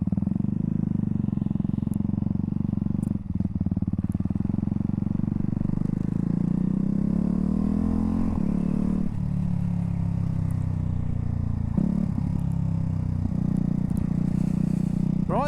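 A Ducati Hypermotard 698 Mono single-cylinder motorcycle engine runs steadily and loud throughout, with a rising rev around the middle and throttle changes later, a constant close engine drone with no talk.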